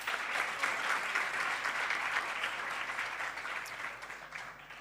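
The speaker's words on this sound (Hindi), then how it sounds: "एक बार जोरदार ताली उनके लिए।" Sustained applause from an audience at a devotional Vyasa Puja celebration after a musical offering, a dense, even patter of many hands clapping continuously throughout.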